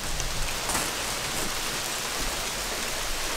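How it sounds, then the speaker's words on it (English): Rain that has just started falls outdoors as a steady, fairly loud hiss of drops spread evenly across the whole stretch, with no voices. "it just started raining."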